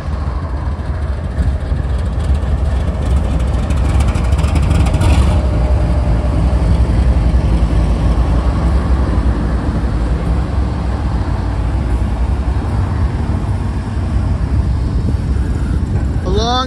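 Freight train M409 pulls out of the east end of Selkirk Yard with a low, continuous rumble and the mechanical rattle of rolling cars, loud and steady throughout, with a brief high squeal near the end.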